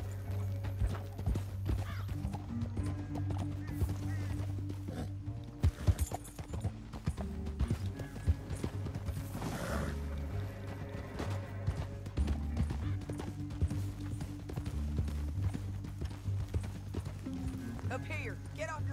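Horses in the Red Dead Redemption 2 video game gallop with continuous clip-clop hoofbeats, and a whinny rises partway through. Characters talk over the hooves, with music and game effects underneath.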